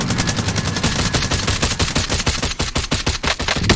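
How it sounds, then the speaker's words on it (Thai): Rapid automatic gunfire from an MP5 in the shooter game Call of Duty Warzone, a dense run of loud repeated shots with no talk over it. "เปิดยิง"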